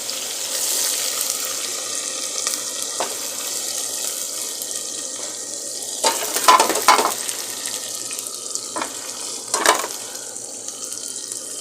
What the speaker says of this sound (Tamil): இப்போ வெங்காயத்தை போட்டுக்கலாம் வரும் வெங்காயம் வரும் வெங்காயம் பச்சை மிளகா ரெண்டையும் போட்டுக்கலாம்